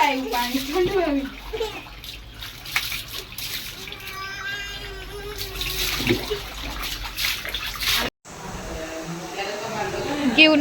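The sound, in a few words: water poured while bathing a child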